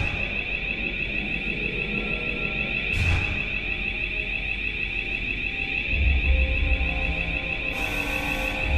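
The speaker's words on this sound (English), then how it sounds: "every single alarm's going off" Reactor alarms in a space-themed video game sound off together as a loud, steady electronic tone that persists throughout, with brief bursts of noise layered on top.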